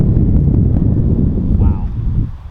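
A strong headwind buffets the microphone on an open disc golf field, a heavy, continuous low rumble of gusting air that fills the whole moment and eases slightly at the end.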